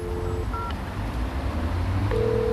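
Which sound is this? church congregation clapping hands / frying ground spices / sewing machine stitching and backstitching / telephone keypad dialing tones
telephone keypad dialing tones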